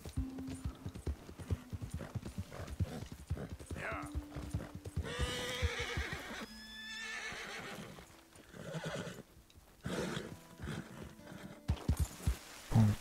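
Galloping horse hooves clip-clop in Red Dead Redemption 2, with several loud whinnies and snorts from the horse, while someone talks over parts of the action.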